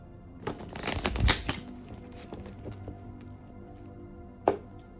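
Tarot cards being shuffled by hand, a rapid riffling burst early on followed by softer card handling and a single sharp tap near the end, close and quiet.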